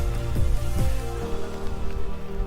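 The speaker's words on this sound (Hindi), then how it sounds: "और बारिश फिलहाल जारी है" Rain falls at Vijaygarh fort, a hilltop fort in Sonbhadra, as a steady soft patter, with a few brief swooping sounds breaking through early on.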